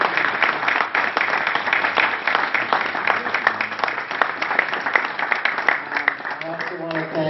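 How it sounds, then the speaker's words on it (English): An audience at a county council district candidates' forum claps for the candidates, a dense sustained round of applause that stays loud throughout, with a voice starting to speak faintly near the end. "So please give all of our candidates a big round of applause for being here tonight."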